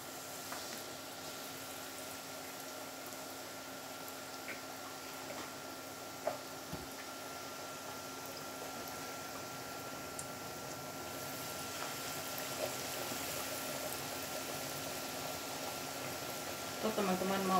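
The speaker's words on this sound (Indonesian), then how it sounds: "saya mau gorengnya" Tofu fries in hot oil over medium heat in a home kitchen, giving a soft, continuous bubbling sizzle that stays faint and even and grows slightly louder toward the end.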